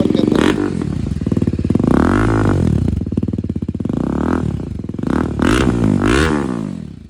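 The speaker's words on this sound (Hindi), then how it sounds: "और अब सुनाते हैं आपको यशोमोरा टाइटेनियम कार्बन के अंदर।" A BMW G310 RR running a Yoshimura titanium and carbon exhaust blips its throttle again and again, loud and close, each rev rising and falling back to a rapid, pulsing idle.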